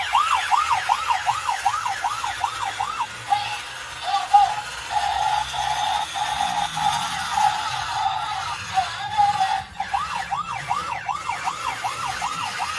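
A battery-powered toy police car plays its siren, a rapid, repeated wailing sweep that shifts to steady electronic tones midway and then returns to the wail.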